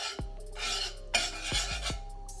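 A metal spoon swirls through caramelizing sugar in a pot, giving a few scraping, ringing clinks against the metal with soft stirring rasps between them, close and clear.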